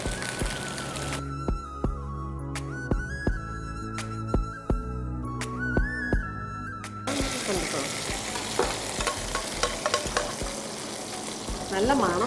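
Mustard seeds frying in oil and ghee, a sizzle that carries through with sharp crackles and pops, strongest early on, while a stirring utensil scrapes through it.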